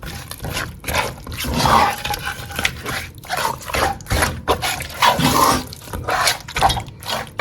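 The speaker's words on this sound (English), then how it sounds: "And I'll add my blended onions and garlic. And stir everything in." Blended onions and garlic being stirred into a spicy turkey sauce in a pot, giving wet, sloshing scrapes in an uneven rhythm that runs continuously and fairly close throughout.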